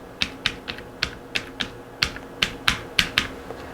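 Brisk typing on a computer keyboard while entering a person's date of birth into a Low Income Subsidy application form, about fifteen crisp, close key clacks in an uneven rhythm, with no talk.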